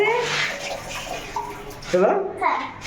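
Tap water running in a house bathroom, a steady splashing stream with a voice talking over it and a few brief clatters near the end.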